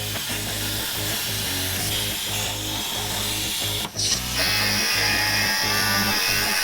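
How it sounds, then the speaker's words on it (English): Steel plates for the motor and transmission mounts are cut in a shop for an off-road bread van build, a loud continuous rhythmic buzzing grind with a brief dip and then a harsher, brighter whine. "So I'm cutting 1 transmission crossmember mount plate and 2 motor plates."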